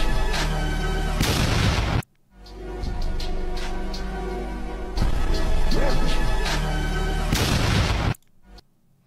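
Loud, sharp video game gunshots and blasts cut in from a dense, busy game soundtrack, with an abrupt silence between bursts.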